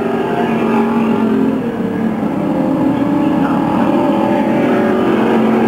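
Stock cars race past on a speedway, a loud, close, continuous roar of several engines blending together and swelling slightly over the few seconds heard.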